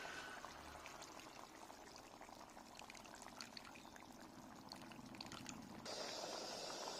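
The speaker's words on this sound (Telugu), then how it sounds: "చింతపండు రసం వేయాలి." Tamarind juice is poured into a simmering Godavari-style koyyanga fish curry, a faint, continuous liquid pour lasting several seconds with a quiet background.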